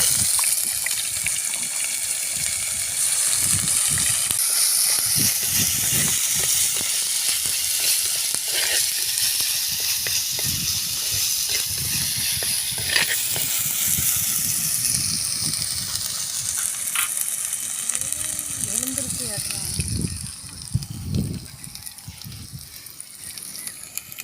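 Homemade ginger garlic paste frying in a clay pot for a prawn masala curry, a dense steady sizzle with scraping stirs, joined near the end by a short burst of watery splashing.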